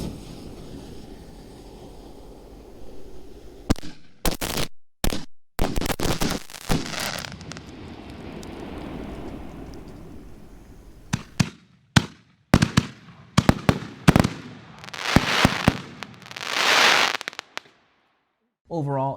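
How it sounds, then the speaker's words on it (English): A fast-fused 10-shot mortar rack of fireworks, fired remotely, goes off in a rapid series of loud booms and crackles with hissing bursts between, outdoors with wind noise and people talking. "So I had a 10-shot mortar rack fast fused up together."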